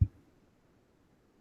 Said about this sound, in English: That's the sound of CJ's head hitting the microphone